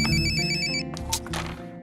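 A phone rings with a repeating electronic ringtone for about a second and then stops, followed by quieter rustling.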